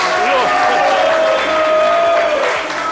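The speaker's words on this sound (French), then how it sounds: "On peut les applaudir très très fort, s'il vous plaît." Studio audience applauding gifts on a live variety show, steady clapping with crowd noise filling the whole stretch, with a tonal music or voice line running over it.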